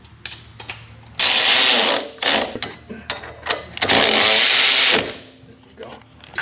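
A ratchet works a 10mm Allen head bolt during a Wilwood D154 brake caliper and QA1 rear sway bar install on a 1995 Impala SS, giving loud bursts of rapid clicking separated by short pauses and lighter clacks.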